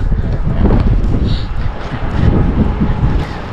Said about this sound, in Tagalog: pagka malakas po yung hangin na maririnig natin dito sa video